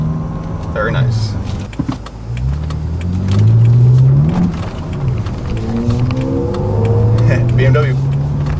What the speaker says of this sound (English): Creeping uphill with the dual clutch.